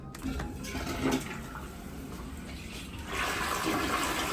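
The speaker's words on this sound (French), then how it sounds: "La difficulté souvent c'est de savoir où tirer la chasse, mais en fait c'est facile, c'est là." A Japanese high-tech toilet flushes up close, a steady rush of water that swells louder toward the end as the bowl empties and refills.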